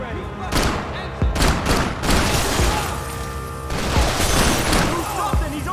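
Gunfire in the video game Max Payne 3: rapid bursts of automatic weapon fire and heavy booming shots, loud and close, in a continuous firefight with shouting voices mixed in.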